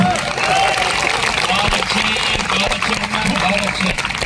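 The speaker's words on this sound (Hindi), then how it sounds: "तालियां इस बात पर भी बजनी चाहिए।" An audience at a Hindi comic poetry gathering (kavi sammelan) breaks into loud, continuous applause, with crowd noise and voices mixed in under the clapping.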